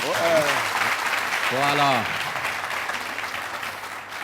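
A TV studio audience claps and cheers for the show's host, steady applause filling the whole stretch while someone speaks briefly over it.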